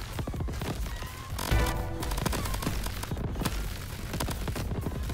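Rapid, dense weapon fire from the torpedo shot in the video game Crab Champions crackles continuously for the whole stretch, a busy barrage of impacts and bursts with no voices over it.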